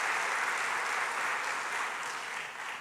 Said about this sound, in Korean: 우리 아이들에게 격려와 감사 박수 한번 쳐주세요.